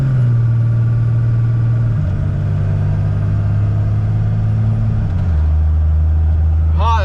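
A 2002 Ram 2500 Cummins diesel truck with a Stage 3 Tier One transmission drones loudly and steadily while driving. Its engine pitch drops noticeably at two firm gear shifts.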